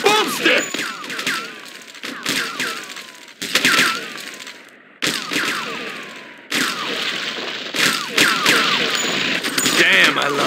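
Sustained bursts of automatic gunfire and scattered shots in the crime action game True Crime: Streets of L.A., loud and near, broken by brief pauses, with a voice talking over the shooting.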